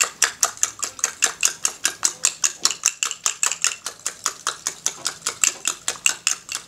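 A fork beats plain eggs for an omelette in a steady, quick rhythm of bright metallic clicks against a bowl, about five strokes a second, close and alone.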